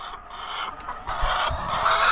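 Backyard laying hens clucking near a coop, several birds making overlapping murmuring clucks and short calls at close range, growing a little louder toward the end.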